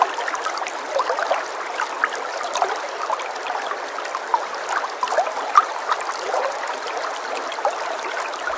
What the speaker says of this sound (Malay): Bila korang dengar kan dia punya air sungai tu, rasa tenang je macam ni